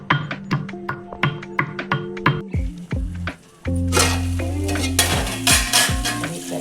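Ivy gourd curry with crushed garlic fries and sizzles in a pan, with rhythmic stirring scrapes and utensil taps at first, then a louder steady sizzle after fresh ingredients drop in.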